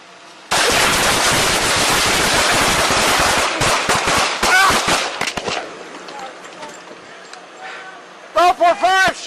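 Gunshots in a police shootout, a loud dense burst of rapid overlapping shots for several seconds, thinning into scattered cracks, followed by shouting voices near the end.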